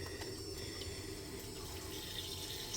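A steady rush of water flows from a tap aboard a Newbridge Voyager 23 sailing boat, continuous and fairly even throughout, with no voices over it.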